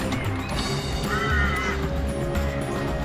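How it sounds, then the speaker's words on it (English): An animatronic T-Rex at a Jurassic-themed attraction in Bourton-on-the-Water gives a rough, sustained, honking roar at moderate volume amid outdoor background noise. "So that's the sound of a T-Rex."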